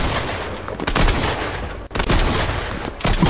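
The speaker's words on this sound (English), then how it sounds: "Someone's shooting me." Pistol fire in Fortnite, a rapid exchange of close, loud shots in quick clusters with a brief gap midway, no talk over it.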